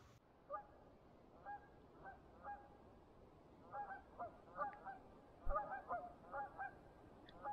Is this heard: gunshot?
no